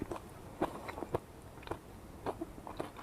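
Mushrooms being bitten and chewed up close, with soft crunchy bites and wet chewing in an irregular rhythm and no talk.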